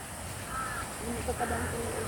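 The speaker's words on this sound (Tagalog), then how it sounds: "Ayan po yung uwak" Crows cawing on a corn farm at harvest time, a few harsh calls in the middle stretch against steady background noise, with a person talking nearby.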